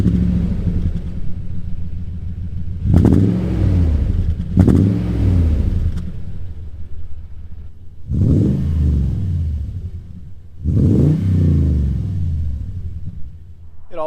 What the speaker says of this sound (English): This one also has the TRD dual exhaust.